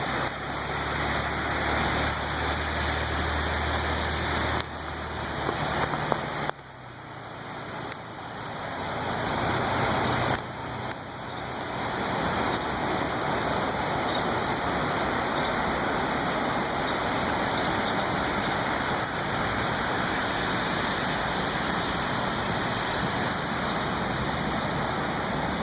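Heavy rain pours down during a flood, a dense, steady hiss of water that runs throughout. A low engine-like rumble sits underneath at the start, with a few brief dips in level and no speech.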